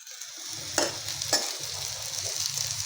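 A pumpkin thalipeeth flatbread fries on a hot tava griddle, giving a soft steady sizzle with two brief scraping sounds, close by and with no one speaking.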